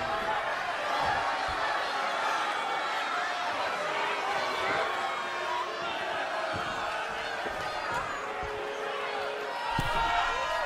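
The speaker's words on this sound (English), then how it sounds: "you hear this capacity crowd following you on that journey" A capacity arena crowd in the wrestling game WWE 2K22 keeps up a constant roar and chatter, with scattered thuds and slams from the ring cutting through the wash of noise.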